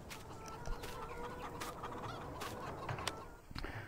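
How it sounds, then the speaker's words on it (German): Chickens in the Landwirtschafts-Simulator 19 farming game cluck and cackle continuously at moderate volume, with sharp individual calls standing out over a constant flock murmur. "Die Hühner haben wir schon hier."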